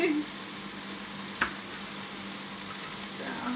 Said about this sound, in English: The sizzle becomes a little more aggressive